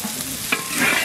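Garlic, ginger, coriander and cumin pastes frying with onions in a pan, a brief close sizzle with one stirring scrape, the hiss swelling slightly toward the end.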